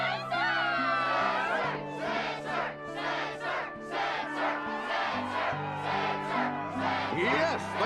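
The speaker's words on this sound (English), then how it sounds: "the crowd is fired up" Crowd cheering and chanting in the Kingdom Hearts 2 Struggle tournament arena, a steady, dense roar of voices with rhythmic pulsing shouts over held background music.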